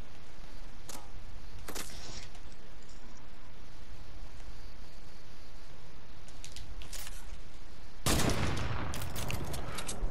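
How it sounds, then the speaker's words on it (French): Weapon fire in Fortnite during the Chapter 1 Season 6 live event: a couple of isolated cracks early, then a dense, loud burst of rapid shots near the end over a constant background rumble. "j'ai défouraillé l'arme"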